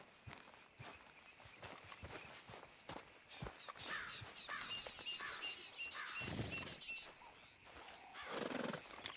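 A horse in the western game Red Dead Redemption 2 clip-clops with steady hoofbeats, then whinnies and snorts at mid-distance, with faint birdsong in the open-air background.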